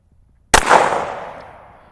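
A single sharp gunshot from a Canik TTI Combat pistol with a ported, match-fitted barrel, fired nearby at a range. It cracks loudly once and leaves a long reverberant tail that slowly dies away, with no talking.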